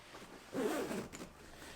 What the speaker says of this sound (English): I'll just put that in there and zipper up this main compartment